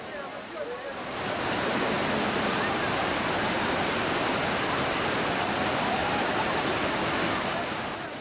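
Lauke waterfall in Nuwakot, Nepal, roaring as a dense, steady rush of falling water that swells in within the first second and then holds loud and unbroken to the end.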